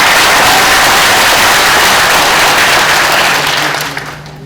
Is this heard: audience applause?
yes